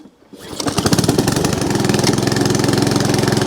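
A Honda HRX 537 or Hayter Ranger 53 petrol lawn mower, choke on, fires after a pull-start and settles into a loud, steady, throbbing idle, close by with no talking.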